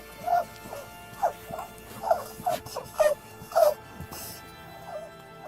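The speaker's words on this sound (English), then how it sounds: "Rabbit. A rabbit says," A rabbit squeaks in a run of about eight short, high-pitched chirps at an uneven pace, close and fairly loud, with no talking.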